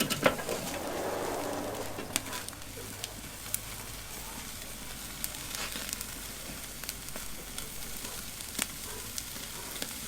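Tri-tip sears over an open flame on a Weber kettle grill with a Santa Maria attachment, a quiet, steady sizzle broken by scattered sharp pops and crackles, without talk.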